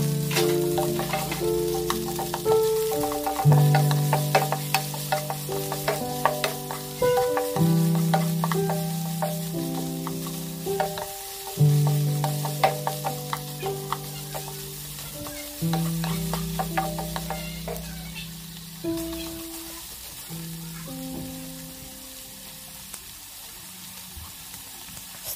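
Garlic and fish cake stir-fry in a hot pan for kimchi fried noodles, a steady sizzle with frequent spatula scrapes and taps, close up under background music, with no talking.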